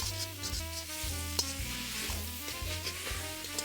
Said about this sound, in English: All we're wanting to do at this stage is sear the meat. It's on a high heat